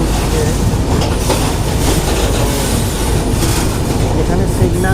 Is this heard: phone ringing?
no